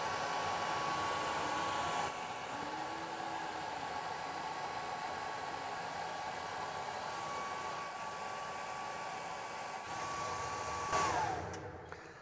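Atomstack Ikier K1 Ultra 36 W laser engraver making a second cutting pass through 19 mm spruce, heard as a steady rushing air-assist hiss with a faint high whine, continuous and fairly loud.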